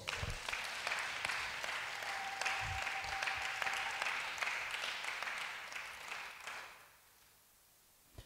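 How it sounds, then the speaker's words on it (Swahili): A church congregation at a Sunday service clapping together, a dense, moderately distant applause that holds steady for several seconds, then thins out and stops near the end, no voices over it. "Makofi kwa Bwana Yesu."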